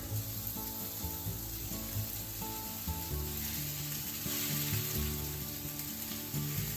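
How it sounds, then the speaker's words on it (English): Constant sizzling of atsuage (thick fried tofu) in a hot frying pan, loud and close, over a layer of steady musical tones. "Just put atsuage in the heated frying pan."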